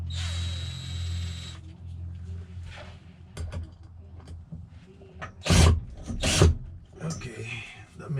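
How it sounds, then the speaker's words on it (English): Power drill boring a small hole in wood during camper repairs, a short whirring run at the start followed by clunks, taps and a couple of louder bursts of handling noise nearby. "I'm gonna have to drill a little hole."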